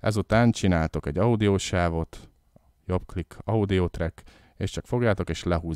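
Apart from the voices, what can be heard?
No distinct noise like a dog, phone or traffic.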